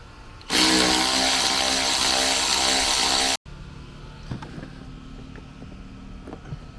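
A power tool whirs loudly and continuously for about three seconds while removing bolts on a 2010-2014 Ford F-150 during an AC evaporator core job, then cuts off, leaving faint clinks and handling noises afterward.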